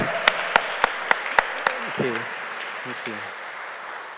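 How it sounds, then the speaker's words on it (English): An audience at an evening talk applauds a guest with a brief, loud burst of clapping that fades out, followed by a voice speaking briefly. "let's give him a round of applause."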